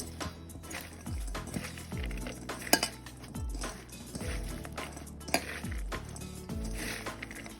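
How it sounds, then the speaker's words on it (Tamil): Shredded cabbage is mixed into pakora batter in a bowl, with roughly one wet, scraping stroke per second and occasional clinks of the spoon against the bowl's side. "இதை நாம் அந்த கோஸ் இதில் மிக்ஸ் பண்ணிட போகிறேன்"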